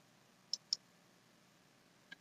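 A computer mouse clicking: two quick close clicks, then a single fainter click a moment later, against near silence.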